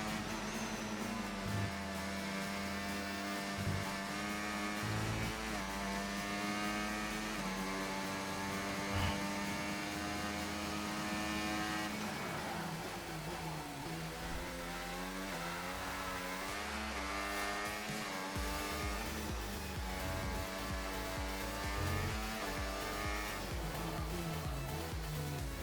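Race car engine from the F1 24 video game, lapping Melbourne, rising and falling steadily through gear changes with a continuous loud whine and no pauses, alone throughout.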